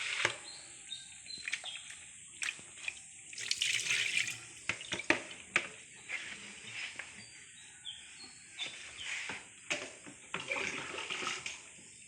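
Water running from a tap while a basin is emptied and refilled for a bed bath, a steady close splash with irregular bursts and clatter and no talk.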